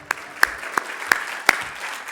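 Applause for Matthew at the Rockie Awards ceremony, with a few sharp, distinct claps standing out at irregular intervals over a softer bed of clapping from the audience.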